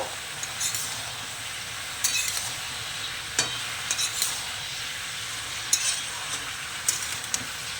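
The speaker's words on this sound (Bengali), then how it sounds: "লবণ হলুদও দিয়ে দিলাম, একটু নেড়ে নেব।" Bottle gourd with salt and turmeric being stirred in a pan: a soft, continuous sizzle with occasional sharp clinks and scrapes of a spatula against the metal, close by and with no talking.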